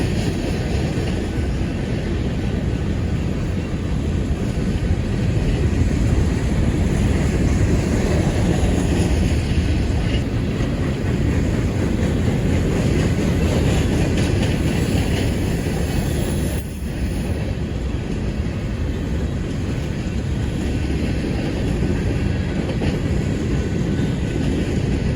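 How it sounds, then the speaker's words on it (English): A BNSF coke train of coal hoppers rolls steadily past, a continuous loud rumble and roar of wheels and cars with faint clickety-clack, sustained without a break and with no talk. "This is the first coke train I've filmed in some time."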